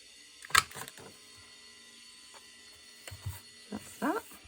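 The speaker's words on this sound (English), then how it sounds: "I'm going to get my 1 inch circle punch" A 1 inch circle punch cuts through paper with a sharp mechanical clack, followed by a few softer clicks and rustles as the paper is handled nearby.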